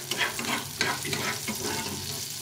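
A rui fish tail fries in a pan, a close, steady sizzle and crackle with a few soft stirring bumps, no voices.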